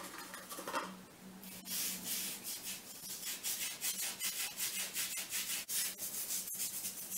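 Tile grout lines are scrubbed clean of dirt with a brush in steady, close, rubbing strokes, a continuous rhythmic scratching that stays fairly quiet throughout.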